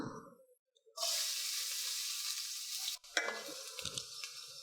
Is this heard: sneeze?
no